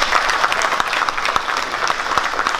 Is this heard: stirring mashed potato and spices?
no